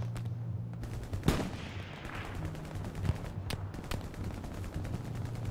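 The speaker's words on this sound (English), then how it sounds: "being shot out from the left again. MP40." Gunfire from an MP40 submachine gun in a World War II shooter video game, with a few sharp shots and short bursts over a steady engine-like hum and background battle noise.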